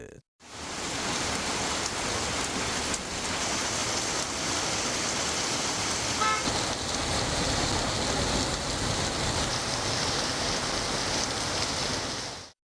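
Steady, dense rainfall hisses evenly in a residential area in Tamil Nadu, a continuous wash of sound from start to finish with no voices.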